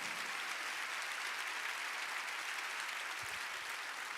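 Sustained applause from a church congregation, dense and steady throughout, with no voices rising above it.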